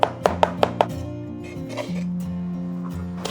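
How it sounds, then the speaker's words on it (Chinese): A kitchen knife mincing a head of garlic on a cutting board: five sharp, evenly spaced chops in the first second, then a quieter stretch with a steady background tone. "接着再给它剁成蒜末哈"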